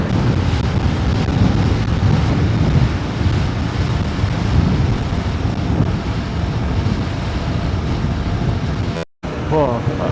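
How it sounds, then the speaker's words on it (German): Strong wind rushes and whistles around a building corner on a windy hillside road, a loud continuous buffeting roar with gusty noise across the microphone that cuts out briefly near the end. "Boah, pfeift der Wind hier um die Ecke."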